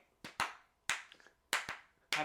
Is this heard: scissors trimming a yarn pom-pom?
no